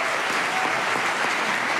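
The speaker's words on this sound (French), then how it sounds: "On veut t'applaudir bien fort encore." An audience at a French talk show applauds warmly, a dense steady clatter of many hands filling the short stretch, close and even.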